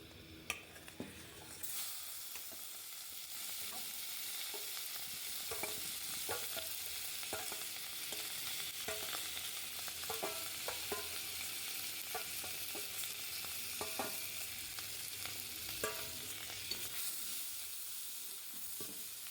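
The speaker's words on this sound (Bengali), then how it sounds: "এবার আমি আলুগুলো একটু সিদ্ধ করে নিয়েছিলাম, এগুলো একটু ভেজে নিচ্ছি" Parboiled potatoes fry quietly in a pan, a soft continuous sizzle punctuated by regular spatula scrapes and light knocks as they are turned.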